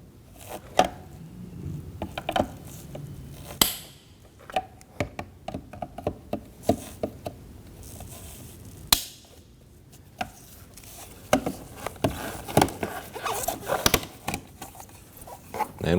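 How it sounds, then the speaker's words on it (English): Plastic mirror cap cover on a 2015-2024 Ford Edge being pried off its bezel, with scattered sharp clicks, snaps and handling taps at close range, some louder pops standing out. "We'll go ahead and pry down on each of them."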